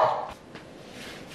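A dog gives one short bark up front, close and fairly loud, followed by faint breathy sounds and quiet room noise.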